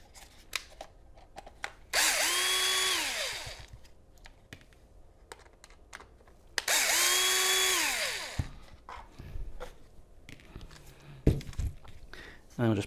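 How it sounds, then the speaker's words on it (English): A cordless power driver whirs in two sustained bursts, pitch rising and falling as it backs T15 screws out of the ignition switch (EIS) on a W211 Mercedes, with clicks and handling noises between the runs. "first thing that we're going to do is get the EIS open, so we can take 2 screws out with our T15"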